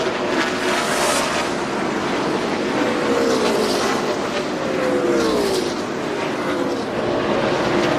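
NASCAR Winston Cup stock cars race at Darlington Raceway, a dense, continuous roar of engines passing under a broad wash of crowd and track noise, loud and sustained throughout.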